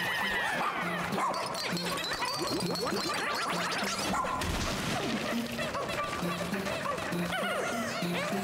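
Barking from a dog in the video game Pikmin 4, set in a canyon area, with yips and thwacking impacts over dense game music and effects throughout.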